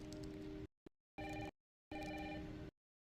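A telephone rings in short, bright bursts with silent gaps between them, moderately near and alone without any voices.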